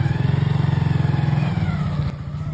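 Motorcycle engine running nearby with a fast, steady thumping pulse that eases slightly toward the end, no voices present.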